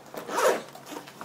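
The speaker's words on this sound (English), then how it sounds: "and it has a accessory zipper" Zipper on a padded Targus computer backpack's accessory pocket, one quick close-up pull lasting about a second, rising and easing off, with no voices.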